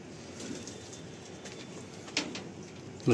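Pigeons coo softly inside a loft kept for breeding birds, low murmuring calls rising and falling under a quiet room hum, with a few faint clicks and one sharper knock at the close.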